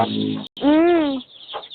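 A large native-breed rooster of about 4 kg gives a single drawn-out clucking call up close, its pitch rising then falling, followed by brief quiet and a faint rustle.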